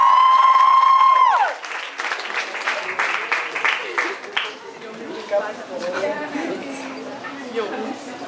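Audience applause at a concert in Pratteln, starting after a held tone fades and continuing as a crowd of clapping with scattered cheers, moderately loud and steady throughout.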